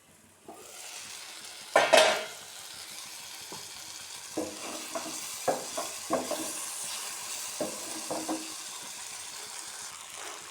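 Brinjal sautés with turmeric and chili in a pan, a soft continuous sizzle with several distinct scrapes and knocks of a spoon stirring against the metal, close by and with no talk.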